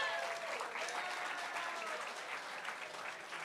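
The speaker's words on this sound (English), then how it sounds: "Give it up for Sase." An audience applauding after a speaker at a preview panel for Red Bull Battlegrounds in Austin: dense, steady clapping from a crowd, loud and close, holding evenly throughout.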